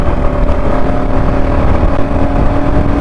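A Royal Enfield Classic Dark 350 motorcycle in eco mode accelerates through first, second and third gears, a loud, steady engine drone with wind rush, heard from the rider's position.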